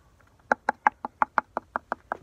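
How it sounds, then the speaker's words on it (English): A door is banged on with about eleven evenly spaced knocks, each a sharp, hollow thud that repeats roughly every sixth of a second, close and fairly loud against a quiet room. "Grizz, on the other hand, is banging on the door"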